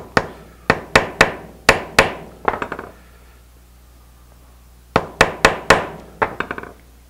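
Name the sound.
tapping knife handle scales into place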